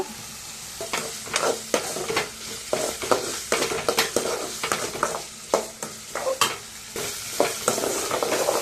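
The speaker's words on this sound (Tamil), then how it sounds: "இப்போ உருளைக்கிழங்கு போடலாங்க உங்களுக்கு தேவையானது மஞ்சள் தூள் சேர்த்துக்கலாம்" Potatoes with turmeric sizzle as they fry in a pan, with a spoon scraping and stirring in frequent irregular strokes over a steady close frying hiss; no voices.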